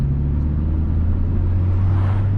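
Honda Civic Type R FK8 engine idling low and steady during a manual gear change, a deep even rumble with a slight shift in pitch partway through, close and fairly loud.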